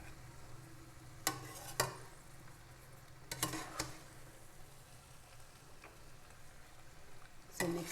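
Chicken biryani mixture being stirred in a pot over low heat, quiet scraping strokes and several sharp spoon clinks against the pot in an irregular rhythm.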